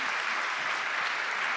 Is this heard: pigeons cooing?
no